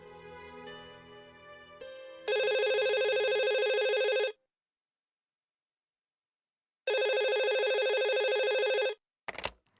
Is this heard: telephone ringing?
yes